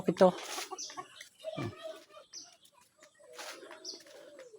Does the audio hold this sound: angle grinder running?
no